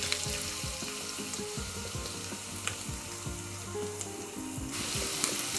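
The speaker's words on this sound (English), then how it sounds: "This has got all the methi, jeera and everything in whole, including mustard. So just 2 pinch of that. Let that fry." Whole methi, cumin and mustard seeds frying in oil, giving a continuous close crackling sizzle with faint popping and small clicks of stirring throughout, no talking.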